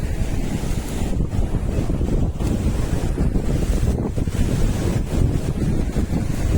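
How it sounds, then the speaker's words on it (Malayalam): Sea waves roll in and wind buffets the microphone at Ezara beach in Kannur, Kerala, a continuous loud roar of surf and gusts with no voices. "കണ്ടോ ഇങ്ങത്തോളം തിരമാല അടിച്ച് കയറുന്നുണ്ട്. കാറ്റ് വീശി തുടങ്ങി, കാറ്റുണ്ട്."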